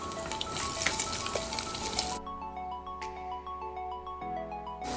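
Sausages and egg white frying in a pan give a dense, steady sizzle for about two seconds, then the hiss drops away, leaving a quieter background with a few brief higher crackles.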